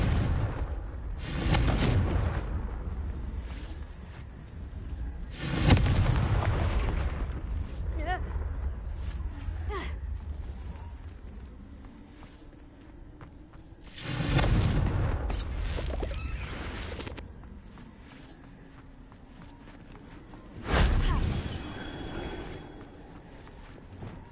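Fiery Incendio and Confringo spell blasts from the Hogwarts Legacy video game burst out as four loud booming whooshes spaced several seconds apart, each trailing into a rumbling decay over ambient game sound.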